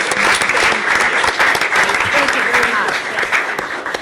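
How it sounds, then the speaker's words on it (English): A crowd applauds at a city council meeting in honor of the library, a steady burst of clapping that fills the room while a voice speaks over it. "A round of applause for our library."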